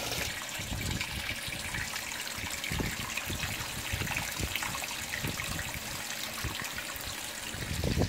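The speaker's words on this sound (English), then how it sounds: "And then I'm going to pour it directly into the tub" Rinse water pours steadily from a bottle into the tub of a 2017 Speed Queen washing machine, a continuous close splashing gush with trickling spatter throughout.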